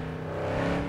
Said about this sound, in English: I love the sound of the Javelina's engine.